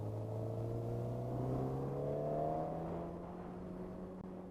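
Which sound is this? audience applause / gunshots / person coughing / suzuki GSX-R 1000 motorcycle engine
suzuki GSX-R 1000 motorcycle engine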